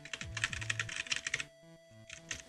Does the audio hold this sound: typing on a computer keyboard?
yes